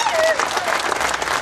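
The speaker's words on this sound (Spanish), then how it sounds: "se merece un aplauso fuerte a nuestra presidenta" Audience applause at a public event where farmers near Tegucigalpa receive support, a dense burst of clapping from a crowd heard with speech over it through the short span.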